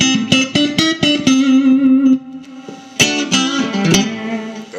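A 1983 Fender Elite Stratocaster electric guitar rings out in a series of picked notes and chords, loud and sustained with strong harmonics, switching through different pickup tones with a short pause midway.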